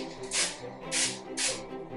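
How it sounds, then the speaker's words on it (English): Avocado oil cooking spray misted onto a cake pan in three short, evenly spaced hissing bursts, close and fairly loud, with no talking. "I'm gonna use spray because I don't have as much butter as I thought I did. Avocado spray."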